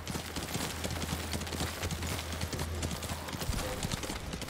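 Rapid, steady clip-clop of horse hooves trotting in Ghost of Tsushima, continuous and fairly loud, with a low engine-like drone underneath and brief bits of voice.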